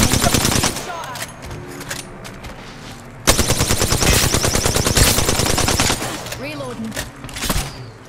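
Rapid automatic gunfire bursts in Apex Legends, loud and dense at first, then a sharper sustained volley midway, with scattered shots and thumps later, mixed with game effects.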